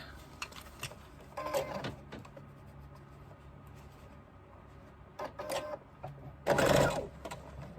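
A sewing machine bastes fabric pieces of a crossbody bag together in three short bursts of rapid stitching, close and moderately loud, with quiet pauses between them.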